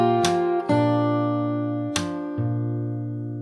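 Fingerstyle acoustic guitar phrase from a song, played on a single chord shape, close and clear with two sharp plucked attacks ringing out into sustained harmonics, no voice.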